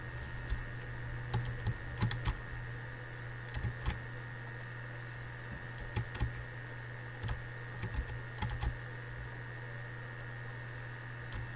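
Computer keyboard typing, a run of scattered soft key clicks in bursts over a steady electrical hum, close and alone without any talking.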